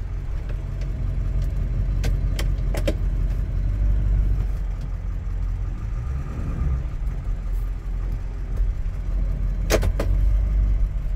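A 2001 Ford Excursion with the 7.3 diesel rumbles low and steady while shifting into reverse and rolling, with a few sharp clicks and knocks over the continuous engine drone.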